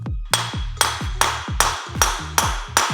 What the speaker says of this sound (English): send them home with the new bearing seater, giving it a few taps with a hammer